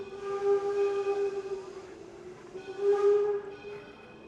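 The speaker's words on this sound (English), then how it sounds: "Train passing through." A train rumbles past at Henry Ford's Greenfield Village with a steady, droning tone that swells, dips, and swells again, fairly loud and continuous with no voices.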